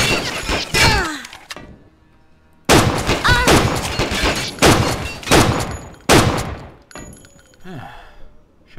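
Enemy gunfire in the shooter game Stalin Subway Red Veil: loud, heavy bursts of shots and impacts in clusters, separated by short quiet gaps, with a few grunting vocal sounds.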